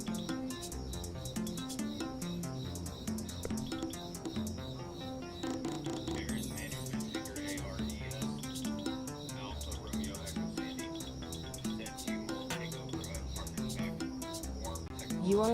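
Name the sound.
crickets chirping in the background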